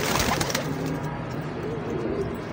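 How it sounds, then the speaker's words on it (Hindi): Quality breed pigeons coo softly, with low repeated calls under a constant hiss of background noise. "क्वालिटी वाले कबूतर"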